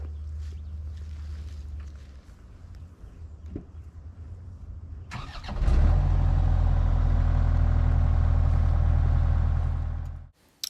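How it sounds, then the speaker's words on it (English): A Takeuchi TL6 skid steer's diesel engine idles low and steady, then throttles up into a loud, constant close roar while driving before cutting off abruptly. "today we're going to be kind of taking the first spin in the Takeuchi TL6 and just drive it around a little bit"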